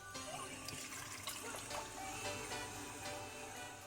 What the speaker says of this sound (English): now let's fill the balloon with water